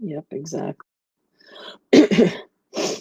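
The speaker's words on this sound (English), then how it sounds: "Sorry about that. I meant to mute while I was coughing." One harsh cough bursts out close to the microphone during a live online voice chat, framed by short bits of conversational speech before and after.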